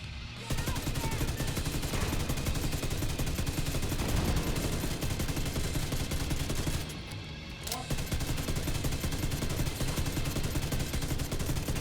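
Fully automatic Ravenous exotic rifle firing nonstop in the shooter game Division 2, a dense, loud, sustained barrage of rapid gunshots with one brief pause midway.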